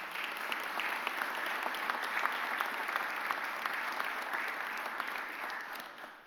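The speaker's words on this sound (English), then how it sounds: "That deserves a round of applause." A room full of people applauds steadily at a mayor's press conference, a dense, even patter of many hands that tapers off at the end.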